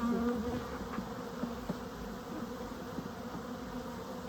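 Honeybees from a package being installed into a top bar hive buzz in a steady, dense drone throughout, close and fairly loud, with no talking.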